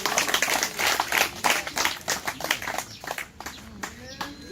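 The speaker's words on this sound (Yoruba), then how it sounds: "Ẹ pàtẹ́wọ́." Applause from a Yoruba audience at a public address, a dense wash of clapping hands rising and falling across several seconds with crowd noise mixed in.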